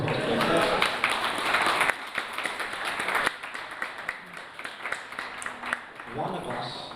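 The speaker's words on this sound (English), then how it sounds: "Round of applause, please." Audience applause at a student union election results night, dense clapping at first that thins into scattered claps with voices talking over it.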